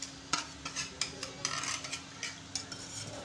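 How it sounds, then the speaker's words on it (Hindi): A spoon stirs milk in a pot on a stove, scraping and clinking against the metal in a loose irregular rhythm of soft taps and swishes, close but quiet. "चम्मच चलाएंगे इसमें"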